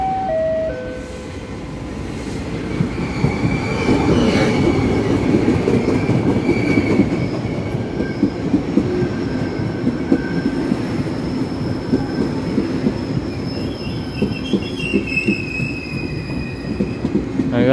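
A train rolls close and loud along a railway station platform in Taiwan, with a steady low rumble, rhythmic wheel clatter and faint high wheel squeal. Electronic announcement tones sound over it.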